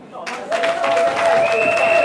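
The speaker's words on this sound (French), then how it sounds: "Il faut l'applaudir." Applause rises at a women's political colloquium after a brief quiet start, building into steady clapping with crowd voices and a sustained tonal hum underneath.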